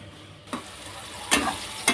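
Onions with turmeric frying in a pan for a coconut milk chicken curry, a soft sizzle broken by three short scraping stirs, close up and with nobody talking.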